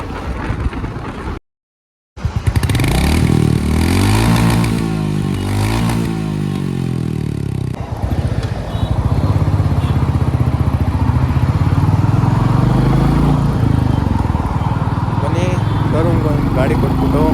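A Royal Enfield Goan Classic 350 motorcycle with an aftermarket exhaust, engine running loud and close with a steady throbbing note that climbs and settles as it revs, with a short gap near the start and wind buffeting throughout.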